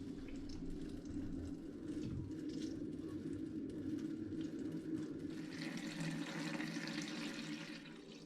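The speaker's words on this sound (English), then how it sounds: "all I'm doing at this first stage is siphoning off the cider into this second vessel where the clearings is" Hard cider is siphoned from a glass demijohn into a second vessel, a steady trickling and gurgling flow that turns brighter and splashier toward the end.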